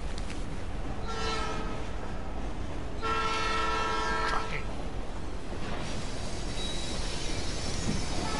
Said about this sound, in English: I love trains.